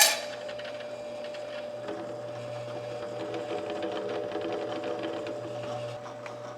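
A bench top drill press runs with its plastic drive pulley out of round and the belt freshly tensioned, giving a steady whirring hum with continuous rattling vibration, close and even throughout.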